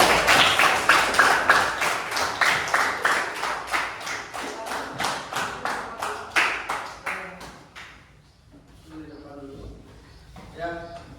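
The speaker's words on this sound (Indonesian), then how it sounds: "Beri tepuk tangan dulu untuk" A classroom of students claps together in a steady burst of many hands, loud and close, fading out after several seconds as a few scattered taps and a voice remain.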